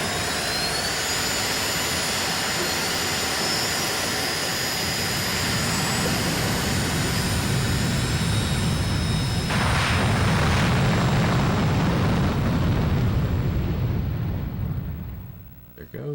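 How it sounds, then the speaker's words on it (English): A fighter jet in a video game roars as it takes off, a loud sustained engine blast that builds midway, with game voices talking over it. "Mobius 1, you are cleared for takeoff. Mobius 1, take off immediately to clear the flight line."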